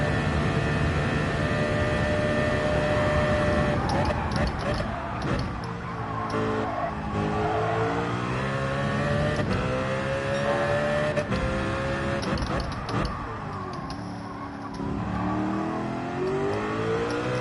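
Race car engine in Gran Turismo 7, loud and continuous, its pitch climbing and falling through gear changes, with a brief skid partway through and no talking over it.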